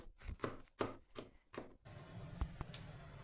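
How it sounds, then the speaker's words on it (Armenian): Garlic being finely chopped with a knife on a board, several sharp close knocks at an uneven pace, then quieter scraping and a few softer taps with a low kitchen background and no talk. "որ պետք է մանր կտրատեմ սխտորը"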